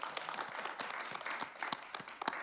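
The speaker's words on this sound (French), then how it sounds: "Un tonnerre d'applaudissements pour Michel" A studio audience claps for a guest on a French talk show about mental health, a dense, steady round of applause with a few sharper individual claps standing out, moderately faint and alone without voices.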